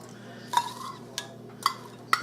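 Spoon scraping and clinking inside a jar of diced jalapenos, four short sharp clicks spaced irregularly over a quiet background hum.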